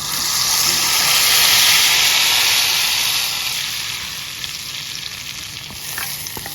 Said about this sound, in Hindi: चलता है इसमें तड़का।